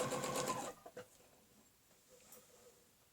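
A sewing machine stitches briefly around a quilting ruler, a short fast burst at the start that stops after under a second, followed by faint handling sounds and near silence.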